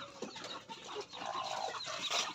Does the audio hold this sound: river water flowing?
no